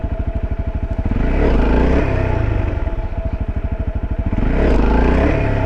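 A motorcycle engine is revved hard with the throttle for a wheelie, close by, its throbbing exhaust rising in two strong surges with a dip between them, and no voices.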